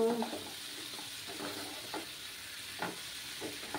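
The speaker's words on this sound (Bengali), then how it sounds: "মশলাটাকে ভালোভাবে পেঁপের সাথে কষিয়ে নেব" Spices being stir-fried with papaya in a pan for a vegetarian papaya curry, giving a soft steady sizzle with intermittent scraping stir strokes, close and fairly quiet, with no talking.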